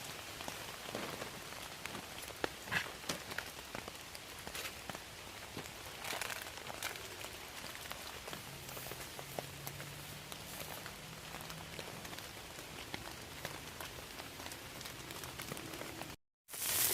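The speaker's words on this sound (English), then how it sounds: "The rain's not stopped all day." Steady rain patters on a tarp in a forest camp throughout, dense and continuous with scattered heavier drips, broken by a brief dropout near the end.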